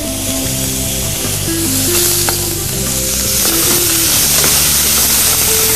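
Chopped celery frying in a hot pan gives a steady, loud sizzle and crackle that holds throughout, with a soft tonal hum running underneath.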